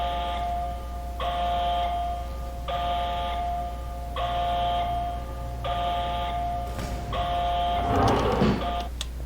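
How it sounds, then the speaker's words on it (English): A facility alarm in Half-Life 2 blares in a repeating cycle of buzzy, doorbell-like tones, each lasting about a second with short gaps, over a steady low hum, with a crash of noise near the end. "Let's get away from that alarm."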